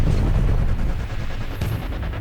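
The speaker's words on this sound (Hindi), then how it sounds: "वाइल्ड कैट से गोलियां उसी तरह निकलती हैं जैसे पाइप से पानी निकलता है।" Machine gun fire from a Wildcat fighter plane rattles in a dense, continuous burst, loud and rumbling, heaviest at the start and easing slightly toward the end.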